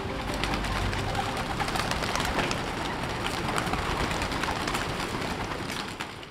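Racing pigeons cooing in a loft, soft repeated coos over a constant hiss and rustle of the flock, fairly close, with no talking.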